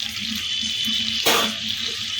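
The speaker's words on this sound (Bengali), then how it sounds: "ফুটতে শুরু করে দিয়েছে" Chilli sauce for cauliflower bubbles as it comes to a boil in a pan, a soft close hiss with a brief louder burst of bubbling and splutter partway through.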